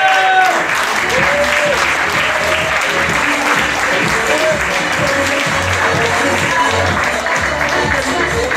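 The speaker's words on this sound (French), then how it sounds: "Merci d'applaudir Khalid El Kandili." Loud, sustained audience applause fills a casino hall during a 20th-anniversary celebration, dense clapping holding steady throughout with a faint crowd murmur and occasional voices beneath.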